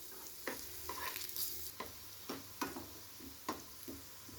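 Potato pieces fry quietly in oil in a wok, a soft steady sizzle broken by a few sharp spatula taps and scrapes, fairly faint and without any talking.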